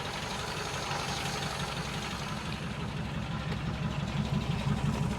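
A 1947 Ford engine idles steadily while warming up, giving a close, even low rumble with a faint rhythmic pulse throughout.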